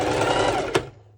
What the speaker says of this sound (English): I'm going to try to do it with this sewing machine